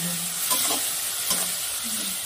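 Onion paste stirred and fried in a pan for a Bengali pumpkin-vine and potato fish curry, a continuous hiss of sizzling oil broken by a few soft scraping strokes of the spoon.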